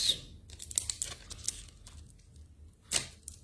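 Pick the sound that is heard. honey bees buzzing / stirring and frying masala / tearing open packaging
tearing open packaging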